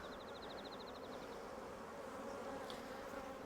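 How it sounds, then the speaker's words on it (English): Honey bees buzz steadily at low volume around a hive, a dense insect drone with one wing-beat whine wavering in pitch before fading. "I don't think my camera person's very happy about the bees"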